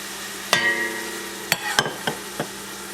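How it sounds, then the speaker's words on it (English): Clams are dumped into a pan of sautéing onions for North Carolina style clam chowder. A few sharp clattering knocks and scrapes come in quick succession over a low, steady hum, each one short. "We'll take our clams, and we'll dump our clams in there."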